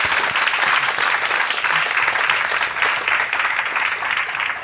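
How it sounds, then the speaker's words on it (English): Audience applause for three panel speakers at a digital inclusion policy discussion, a steady, dense round of clapping that holds evenly at full strength for the whole stretch, close and unbroken. "So if we could have a nice round of applause for all three of them."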